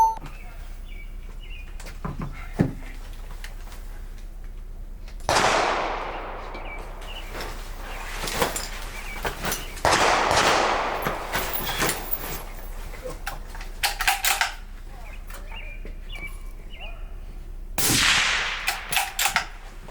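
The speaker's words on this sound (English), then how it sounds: "Shooter, you have 20 seconds to shoot sitting supported." Sharp gunshots from a hunter's shooting drill in the sitting supported position, a few loud cracks spaced seconds apart and ringing out across open ground, with faint birdsong and a voice heard between shots.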